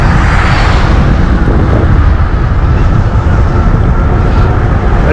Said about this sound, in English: I'm hoping you guys can hear me over the wind.